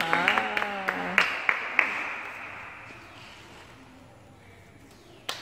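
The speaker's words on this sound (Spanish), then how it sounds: "Aplausos para la graduada." Applause for a new graduate at a family graduation celebration, with a few sharp claps and voices early on, then a soft, diffuse wash of clapping that fades out over several seconds.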